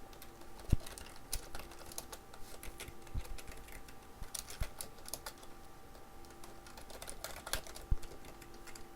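Someone types on a computer keyboard while entering text into a presentation document, with rapid irregular key clicks and occasional louder strikes continuing steadily, close up and without voices.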